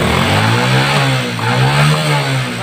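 A Yamaha Jupiter MX motorcycle engine, recently repaired after overheating, revs up and holds a steady, loud mid-pitched roar close by, with rising and falling throttle across the whole stretch and no talking.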